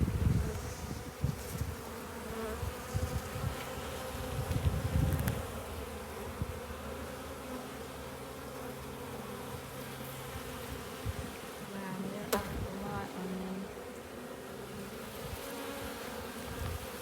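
Honeybees buzz inside an open hive, a dense steady drone close by with some louder passes near the start, and faint talk now and then in the background.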